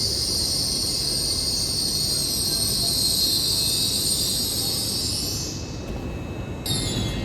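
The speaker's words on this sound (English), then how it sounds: "Arriving in now is an LNER service after London King's Cross, formed as 801" An LNER Class 801 train from London King's Cross pulls into Darlington station, its wheels squealing in a sustained high whine over a steady rolling rumble before easing off near the end.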